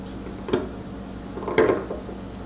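A huge knife scrapes and cuts into an artist's name seal being carved, giving two short gritty scraping strokes close up over a quiet steady room hum.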